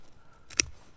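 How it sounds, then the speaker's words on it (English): A single sharp scissor snip cuts away excess material from a handmade crayfish basket trap, one brief close click in an otherwise quiet moment. "we can kind of trim some of this back end off that we really don't need now"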